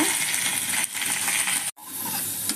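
Malabar spinach (basale) leaves go into hot ghee with peppercorns, and a loud, dense frying sizzle follows, briefly dipping and cutting out for an instant before resuming at full strength.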